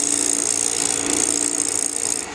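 A carbide scraper scrapes cocobolo wood spinning on a lathe, giving a continuous, harsh, bright hiss with a raspy buzz that stays loud and close throughout.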